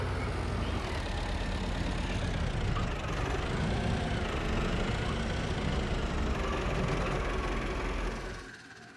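Farming Simulator 2025 tractor engine running steadily as it is driven into a barn, a loud continuous rumble that cuts off abruptly near the end.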